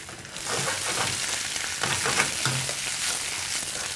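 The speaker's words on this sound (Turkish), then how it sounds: "Burada ıspanak çok hızlı pişecektir. O yüzden sürekli karıştırıyorum." Spinach fries in a hot pan with salt and black pepper and is stirred constantly, giving a steady, close sizzle broken by scraping of the spoon.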